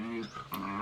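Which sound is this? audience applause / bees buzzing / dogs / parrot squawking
dogs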